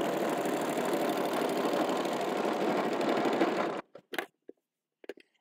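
A sewing machine fitted with a walking foot stitches in a fast, steady close-up whir for several seconds, then stops, leaving a few faint clicks and taps.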